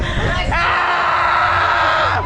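A group of people shout together in one loud, sustained yell, close and chaotic, after a brief spoken countdown.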